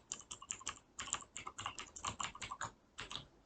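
Code being typed on a computer keyboard during a C++ programming tutorial, quick irregular clicking keystrokes in close succession, close and fairly quiet, with a short pause near the end.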